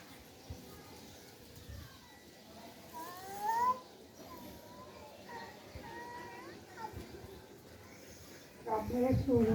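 A cat meows in a run of rising calls while squabbling with a crow, set against background voices and children's chatter, with a sharper burst of cries near the end.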